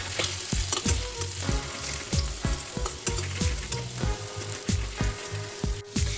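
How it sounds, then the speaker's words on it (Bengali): Potatoes fry in a pan with turmeric and salt, giving a constant loud sizzle broken by regular scraping strokes of a spatula, roughly two per second. "দিয়ে আলুটাকে আমরা ভেজে নেবো ভালো করে।"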